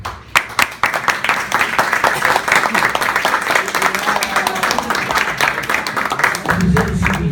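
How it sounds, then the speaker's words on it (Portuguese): Audience applause at an alumni gathering in Salvador, Brazil, starting with a few sharp claps and swelling into steady, dense clapping that thins out near the end as a voice begins. "eu peço uma salva de palmas para a nossa Dinara"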